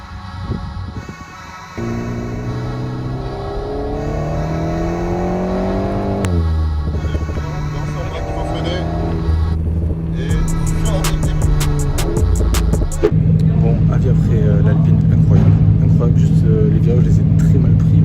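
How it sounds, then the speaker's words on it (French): Lamborghini sports car roaring by on a road, a loud engine note that climbs through revs, drops, then settles into a deep heavy rumble, close and strong throughout. "Et là, tout d'un coup, je vois la Lambo passer."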